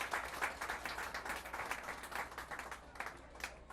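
Audience applause for clergy at a state governor's announcement event, a steady wash of many hands clapping at moderate distance, continuous for several seconds with no talk over it.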